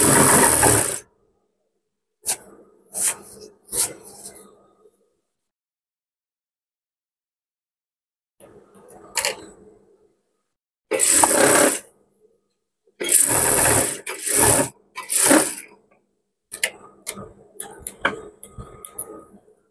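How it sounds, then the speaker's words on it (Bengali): Sewing machine stitching elastic into a churidar pyjama, running in short mechanical bursts with quiet gaps between, close and fairly loud, no talking. "তো আমাদের রাবারটা টেনে টেনে এভাবে বের করে এটা সেলাই দিতে হবে।"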